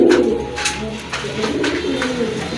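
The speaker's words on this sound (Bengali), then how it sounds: "মাশাআল্লাহ আরেক জোড়া কবুতর চিলা কবুতর।" Pigeons of a kite-type breed in a bird seller's stock cooing close by, soft low repeated coos with faint background noise and no talk.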